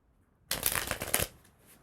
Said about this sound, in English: I'm gonna put them back and then reshuffle.